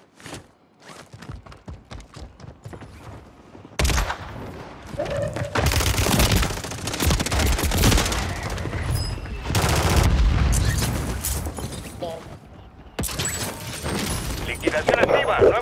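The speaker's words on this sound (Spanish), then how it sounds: "¡Me están disparando!" Gunfire aimed at the player in a shooting video game: scattered sharp shots at first, then heavy sustained bursts of loud automatic fire with booming impacts, alternating with short lulls.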